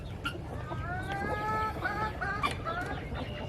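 Several chickens clucking and squawking nearby, overlapping calls against a low outdoor rumble.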